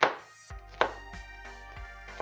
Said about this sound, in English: Chopping up some onions.